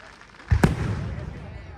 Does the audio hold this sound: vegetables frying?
no